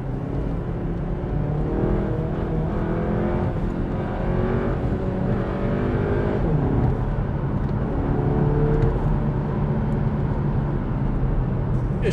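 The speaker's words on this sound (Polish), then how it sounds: "Nieźle brzmi jak na 4 cylindry." A 2018 Volkswagen T-Roc 2.0 TSI four-cylinder petrol engine with 190 hp, revving hard in second gear in manual mode, with a steady, loud, rising drone sustained throughout from inside the car.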